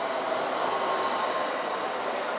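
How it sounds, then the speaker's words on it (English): A Southeastern Class 395 Javelin high-speed electric train at Ashford International station makes a loud, steady rumbling roar close by, unbroken for the whole stretch with no talking over it. "Southeastern Javelin to St Pancras. 395027 again."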